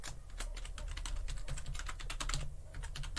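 Rapid keystrokes on a computer keyboard during spreadsheet work, a steady run of close, crisp clicks with irregular rhythm and no talking.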